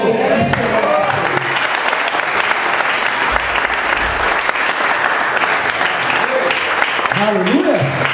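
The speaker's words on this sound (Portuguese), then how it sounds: "Aplaude o Senhor." Loud, dense applause fills a church during a pastor's consecration service, a sustained wash of clapping from the congregation, with brief voices and shouts rising through it near the start and end.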